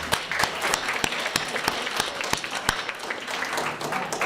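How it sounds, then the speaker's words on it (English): Audience at a graduation celebration for a college pathway program applauding, a steady patter of many hands with sharp individual claps standing out, fairly close and continuous throughout. "want to just start off with everyone just giving yourself a round of applause that you made it here today"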